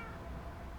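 Cat in the Minecraft video game meowing once, a short, soft, fairly faint call heard alone.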